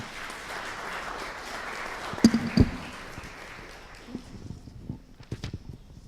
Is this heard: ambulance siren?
no